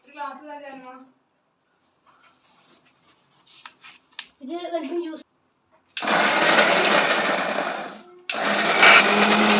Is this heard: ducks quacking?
no